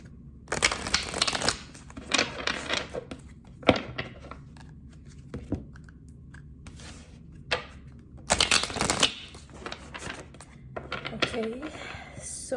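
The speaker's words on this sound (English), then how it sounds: "We're just going to shuffle 3 times." A Mermaid's Tarot deck being shuffled by hand, several bursts of crisp riffling and card slaps separated by pauses, close and moderately quiet.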